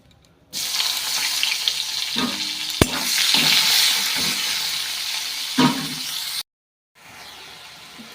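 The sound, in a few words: chopped onion frying in spiced oil for rohu fish curry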